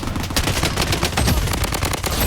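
Rapid bursts of gunfire in the video game BloodStrike, including an Uzi, dense and continuous, like several weapons firing at once, loud and close with no voices.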